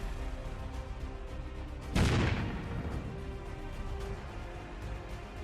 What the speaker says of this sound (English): One shot, then another.